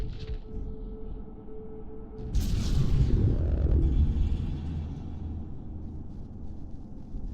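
A nuke detonating in the multiplayer game Unfortunate Spacemen: a sudden loud whooshing blast that swells into a long low rumbling roar, fading slowly over several seconds against a steady background hum.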